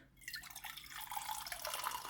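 Water poured from a copper jug into a glass, a continuous close trickle that rises slightly as the glass fills, heard alone.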